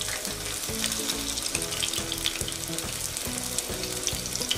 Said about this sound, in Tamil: நல்லா முருகலாக வேணால் நம்ம நல்லா வறுத்துக்கலாம்